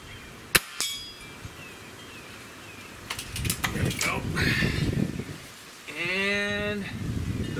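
Pellets from a Gamo Swarm Viper Gen3i air rifle strike a metal ram silhouette target outdoors in wind: a sharp ringing clang, then a quick cluster of metallic pings, with a brief vocal sound near the end.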